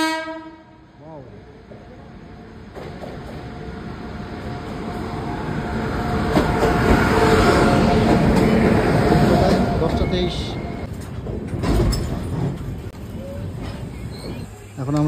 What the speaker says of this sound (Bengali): ট্রেন ঢুকছে, ওই যে ট্রেনের এই যে লাইট দেখা যাচ্ছে, ট্রেন আমাদের ঢুকছে এই যে উত্তরবঙ্গ